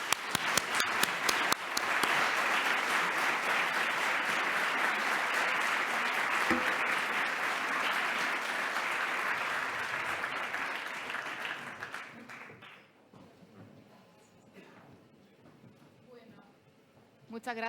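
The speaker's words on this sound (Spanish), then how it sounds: "los invito a aplaudir a todos los que han hecho de esta fundación una maravillosa realidad" An audience at the Global eAwards 2021 ceremony applauds the people behind a foundation, a loud sustained round of clapping that fades out near the end, with music and a voice briefly coming in afterward.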